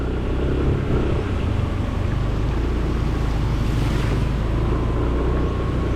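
Steady roaring surf and wind noise, a constant loud wash of sea waves with heavy rumble and no voices.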